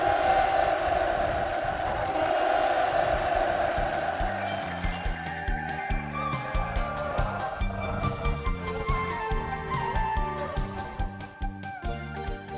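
Participants at a housing move-in ceremony for new rural homes clap and cheer as a crowd, a dense sustained roar of applause mixed with music or rhythmic sounds, fairly loud throughout.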